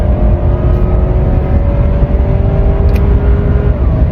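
A 2014 Cadillac ATS 2.0T AWD engine heard from inside the car during a downshift, a loud continuous drone with a steady hum and little change in pitch, no talk.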